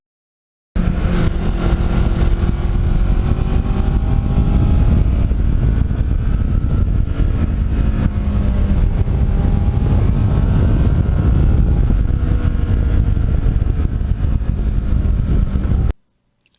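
A Kawasaki Ninja motorcycle, fourteen years old with over 30,000 miles, is ridden at speed, its engine drone loud and continuous under heavy wind rush for about fifteen seconds, with slight rises and falls in pitch.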